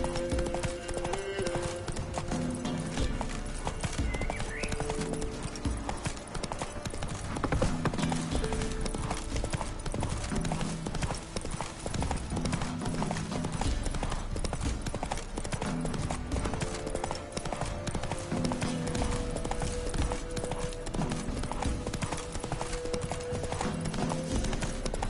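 Galloping horse hooves in the video game Witcher 3, a steady rapid clip-clop running throughout over game music, with an occasional whinny.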